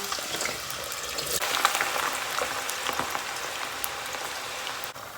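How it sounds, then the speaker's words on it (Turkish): Steady crackling hiss of potatoes frying in hot oil, continuous and fairly close, with scattered pops throughout and no talking. "Şimdi patatesi kızartma işlemine geçiyor."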